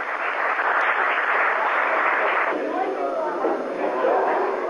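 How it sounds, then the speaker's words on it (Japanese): Sustained arena applause erupts after a sliding collar choke ends a Gracie jiu-jitsu match, a broad, even wash of many hands clapping that continues throughout. "送り襟締めが決まって場内に拍手が起こった。"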